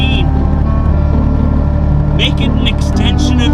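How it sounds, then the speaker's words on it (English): A truck engine runs steadily while driving, a loud, constant low rumble with a throbbing hum, as someone talks over it throughout. "Feel the engine vibrate through the entire frame and body of the truck."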